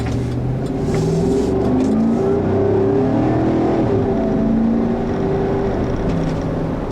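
A 2013 Chevrolet Tahoe with a 5.3-liter pushrod V8 revving and accelerating while driving, a deep rumbling engine note rising and falling, loud and close, with no talk.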